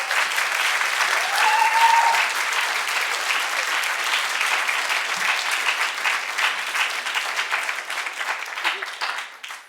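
An audience at an art lecture applauds to welcome lecturer Michelle Grabner, dense sustained clapping from many hands that fills the room and slowly thins out toward the end.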